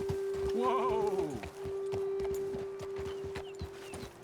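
Horse hooves clip-clop in Red Dead Redemption II: steady close hoofbeats of a horse slowing to a halt, with a brief bleat-like whinny near the start and a sustained tone underneath.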